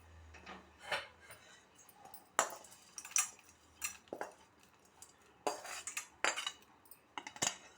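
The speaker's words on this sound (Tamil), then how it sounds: "இப்போது அது எல்லாத்தையும் இந்த மாவோடு சேர்த்து மிக்ஸ் பண்ணிக்கலாம்" Rava uttapam batter is mixed in a bowl with tempered spices: a spoon stirs and clinks against the sides in close, uneven scrapes and taps that come in bursts over a low background.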